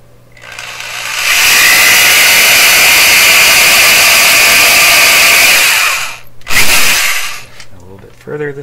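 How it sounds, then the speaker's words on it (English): A power drill whirs loudly and steadily for several seconds, stops, then gives a brief second burst before fading into quiet handling noises, while working on a 1928 RCA Victor Model 28V radio. "Drill."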